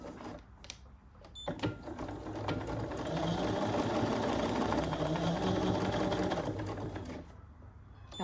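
A Bernina sewing machine stitching a quilt block: a steady, rapid needle chatter builds and runs for several seconds at close range, then slows and stops, with a few light clicks around it.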